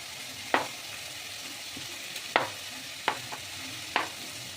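Potatoes fry in hot oil with cumin, coriander and green chili in a home kitchen, a steady soft sizzle broken by four sharp scrapes of stirring spaced about a second apart.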